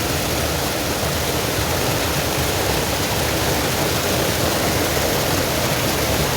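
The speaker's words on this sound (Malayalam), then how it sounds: "ലേക്കിൽ കൂടെ പോണ വെള്ളമാണ്" A steady, loud rush of water pouring through a leak in a canal fills the whole clip, constant and unbroken like a strong stream pouring through a channel.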